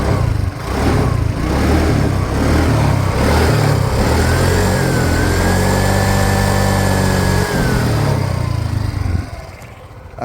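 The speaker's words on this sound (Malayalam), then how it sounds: "അങ്ങനെ വണ്ടി സ്റ്റാർട്ട് ചെയ്തിട്ടുള്ള സൗണ്ട് കാര്യങ്ങളൊക്കെ നോക്കുവാണെങ്കിൽ പ്രത്യേകിച്ചൊന്നും കാണാനില്ല" A vehicle engine idles loudly and close by, revving up in a smooth rising and falling sweep through the middle before settling and dropping off at the end, with low vibration and no voices.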